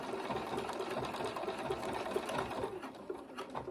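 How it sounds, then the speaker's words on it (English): A sewing machine stitches along a jeans hem, a steady fast whirring run of needle strokes close by, continuous and alone without talk. "I'm going to be sewing this a little bit under 1/2 inch"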